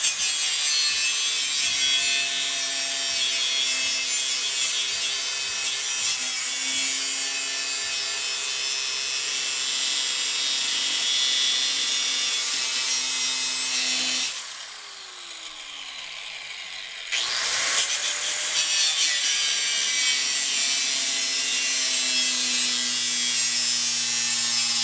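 Steady close sawing of wood for a car trailer upgrade, a continuous rasping cut that briefly pauses and dips before resuming just as loud.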